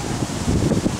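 Strong wind gusts of roughly 40 mph sweep past outdoors in St. Cloud, Minnesota, under a tornado warning ahead of a storm, making a steady rushing blow against the microphone.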